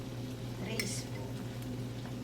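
Shrimp and asparagus stir-fry being stirred in a hot pan, a soft steady sizzle with scraping utensil strokes, close and fairly quiet.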